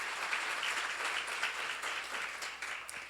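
Room of seminar attendees at a church event clapping together, a continuous crowded patter of applause at even loudness throughout, no voices on top.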